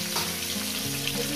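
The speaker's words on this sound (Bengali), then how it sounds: "বাদবাকিদের মাছের মাথা দিয়ে ভেজে নেব।" Fish heads frying in hot oil, giving a dense, steady sizzle with a bubbling crackle, close and continuous over a brief moment, no voices.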